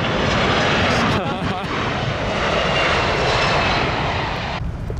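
A Delta Air Lines airliner passes low overhead at Narita Airport, its engines a loud, steady broadband roar that fills the whole stretch, with voices briefly heard under it.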